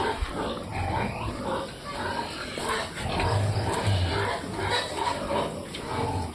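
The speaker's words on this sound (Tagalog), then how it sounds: "Baboy natin mga pigi." Pigs grunting and oinking at feeding time in an evening pen, rough low snorts scattered over a busy background, with faint voices and clatter nearby at moderate distance.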